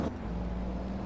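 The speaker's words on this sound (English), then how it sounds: "So we're just pulling in with a new truck trailer." An air brake on a truck pulling a new trailer releases with a loud, sustained hiss over a low engine rumble, close by and steady for just over a second.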